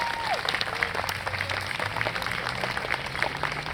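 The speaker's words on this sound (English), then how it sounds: "So if we could give them a big round of applause, I'd appreciate it" A theater audience at a Macbeth performance gives a sponsor a steady round of applause, dense continuous clapping from a crowd, fairly loud and unbroken throughout.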